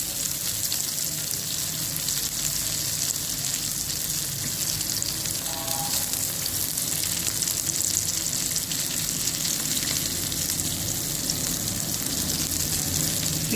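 Matar aloo tikki frying in a pan: a dense, steady sizzle of hot oil holds unbroken for the whole stretch, fairly close and loud, with faint shifts as the patties are moved around.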